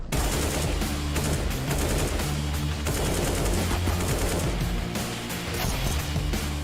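Rapid automatic gunfire from a Counter-Strike match at an esports tournament, loud and continuous bursts with sharp impacts, including a headshot, over dense game sound.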